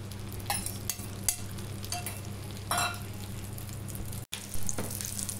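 Beaten egg for an omelette sizzles in hot oil on a preheated griddle pan, a steady close frying hiss with scattered sharp crackles and a brief dropout near the end, no talking.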